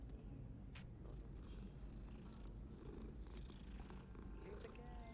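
A cat in the Hogwarts Legacy video game purrs in a soft, continuous rumble, faint and close, with a brief click near the start and no talk over it.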